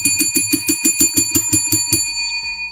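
A small bell, like a bicycle bell, rung rapidly about a dozen times in an even rhythm on a podcast, close and loud, then stopping abruptly and leaving a faint ringing tail.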